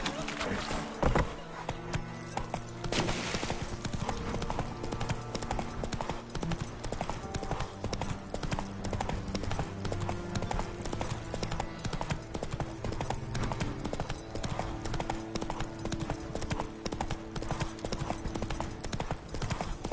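Horse hooves clip-clopping steadily in The Witcher 3 video game, a continuous rhythmic trot over game music and ambience, with a voice speaking briefly at times.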